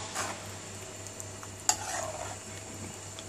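Spoon stirring a fenugreek mixture in a cooking pot: a faint scraping and gentle bubbling with a single metallic clink, quiet over a low steady hum.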